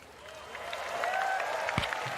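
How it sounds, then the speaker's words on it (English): Crowd of spectators at a Dota 2 esports event applauding and cheering for contestant 1, a broad wash of clapping that swells steadily over about two seconds, with a sharp low thump near the end. "Contestant 1, please, applause if you want it."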